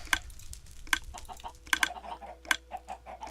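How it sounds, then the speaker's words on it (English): Chickens cluck in a Minecraft farm build, several short sharp clucks spaced irregularly over a low steady hum, moderately close and without any talking. "I better get some grown chickens in there"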